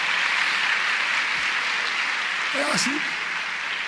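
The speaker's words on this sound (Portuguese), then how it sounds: "vocês aplaudindo essas coisas aí" Audience applause fills a theatre during a lecture-performance, a steady dense wash of clapping that runs throughout, with a voice briefly speaking over it near the end.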